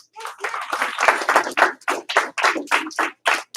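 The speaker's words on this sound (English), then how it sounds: "Everybody give him 1 clap. Give him 2 claps." Students clapping together in a class: about a dozen sharp, fairly loud hand claps in a quick, slightly uneven rhythm, close by with no talk over them.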